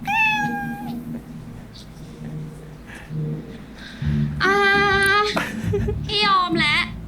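Several high, drawn-out cat meows ring out loud and close, one near the start and a cluster later, over steady low background talk.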